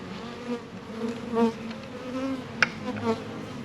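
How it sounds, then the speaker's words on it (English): Honeybees from a package being installed into a hive hum in a steady, close buzz with a few louder individual passes and a brief click partway through; no voices. "Let me open up the front to let the bees out."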